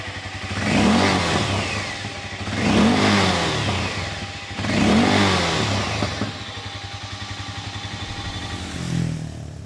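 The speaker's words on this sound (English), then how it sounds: "Now let me make you listen to what this bike sounds like." A Harley-Davidson X440 T motorcycle engine revs hard three times in a row, each loud rising blip falling back to a rough, thumping idle, with a smaller blip at the end.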